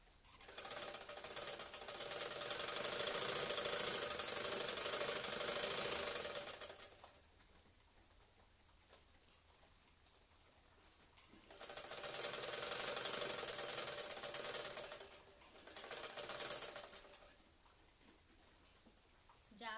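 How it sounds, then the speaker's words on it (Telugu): Sewing machine running a double stitch along garment sleeves, a steady whirring run of several seconds, a pause, then two shorter bursts of stitching, close and fairly loud, with a faint voice in the gaps. "మరలా చూడండి హ్యాండ్స్ డబుల్ కుట్టు వేస్తున్నాను"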